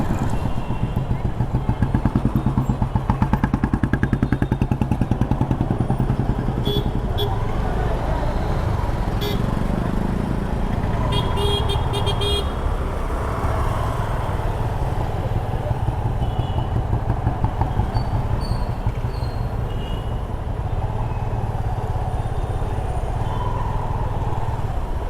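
Busy road traffic on a Mumbai-bound motorcycle ride from Vesvi to Vikhroli, with a constant engine rumble, passing motorcycles and cars, and several short horn toots, loud and close throughout.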